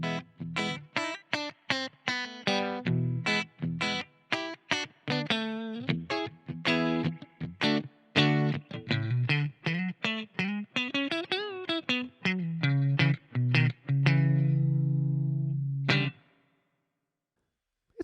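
An electric guitar plays through a Boss GT-100 multi-effects patch with Fender-style spring reverb. A quick run of distorted, bright plucked notes ends in a held chord that rings out, then cuts to silence.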